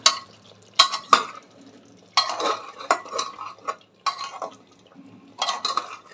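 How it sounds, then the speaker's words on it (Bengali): Spices being stirred and fried in a pan for chicken in a home kitchen, with irregular bursts of metal utensil scraping and clatter against the pan over a faint sizzle. "এখানে হচ্ছে মশলা কষছি আমি এখনও"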